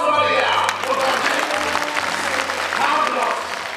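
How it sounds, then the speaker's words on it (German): An audience at a musical eccentric act applauds in a bright, continuous patter, with a voice and tonal sounds running underneath the clapping. "Applaus für Maria!"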